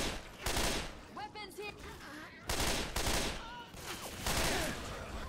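Bursts of heavy gunfire, including shotgun blasts, punch through in Left 4 Dead 2, loud and close, mixed with talking and shouting voices between and over the shots.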